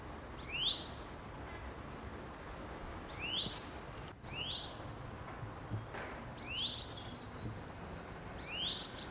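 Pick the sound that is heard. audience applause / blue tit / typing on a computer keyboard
blue tit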